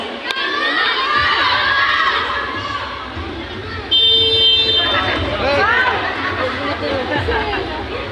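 A loud crowd of comrades in an outdoor street theatre performance shouts together in unison, a dense roar of many voices that drops briefly, then surges back even louder and keeps going.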